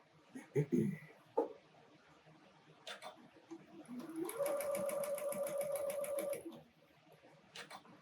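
Sewing machine stitching a center piece into a Lori Holt snowman appliqué block, a steady mechanical run of about two seconds after a few handling knocks and thumps, with quiet room sound around it.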